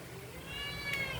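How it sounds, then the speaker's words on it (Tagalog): A pet cat named Mingming meows once, a drawn-out tonal cry rising to a brief strained peak, close and fairly clear over low household background noise. "Ito naman yung aking pusa, si Mingming, si Willie."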